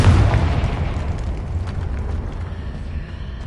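A Confringo blasting spell explodes in Hogwarts Legacy, a loud booming burst at the start that rolls off into a fading rumble.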